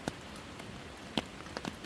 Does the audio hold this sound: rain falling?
yes